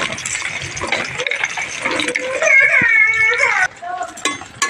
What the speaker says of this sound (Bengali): এবার এর মধ্যে আমি ঝিঙেগুলোকে দিয়ে দেবো।